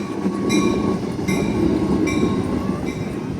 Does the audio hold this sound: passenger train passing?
yes